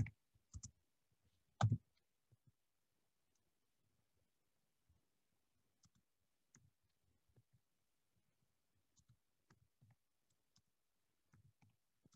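Faint, sparse clicks and taps of a computer keyboard, a few sharper keystrokes near the start, then scattered quiet strokes over long near-silent gaps.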